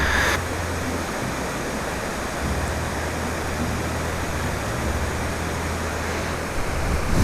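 Steady rushing of flowing water near a hotel, a constant broadband roar that stays even throughout, fairly loud with no voices.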